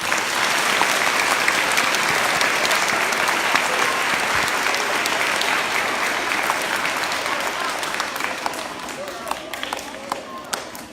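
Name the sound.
audience applause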